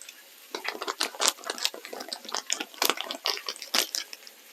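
Salted water in a pot bubbling near the boil, dense irregular pops and gurgles that keep up steadily at close range, with no talking.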